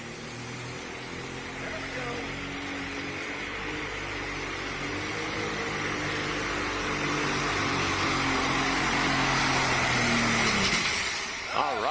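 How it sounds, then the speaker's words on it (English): A light pulling tractor roars through a tractor pull run, its engine a steady loud drone that builds toward the end before cutting off, with a commentator's voice running over it. "So 2 nice passes for the Galat tractors."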